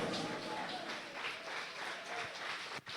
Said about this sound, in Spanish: levantar un aplauso para el Rey de Reyes y Señor de Señores